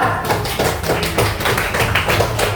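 A primary-school class in Indonesia claps for a group of classmates during a lesson, a close, steady patter of hand claps in uneven bursts lasting the whole moment.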